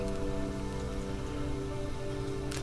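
Steady rain falls outside in a backyard garden, a dense, even patter on surfaces holding at constant loudness throughout with no voices.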